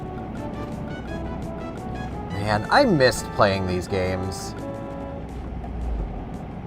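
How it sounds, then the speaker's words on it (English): A truck engine in Euro Truck Simulator 2 drones at a steady low rumble throughout, under someone talking in the middle. "Enjoy truck noises."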